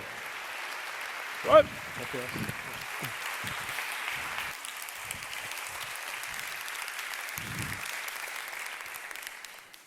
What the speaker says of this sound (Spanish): fuerte el aplauso para Borja Jiménez Alfaro